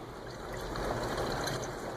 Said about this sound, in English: when I fill up the cap with distilled water and then also add that flush and cleaner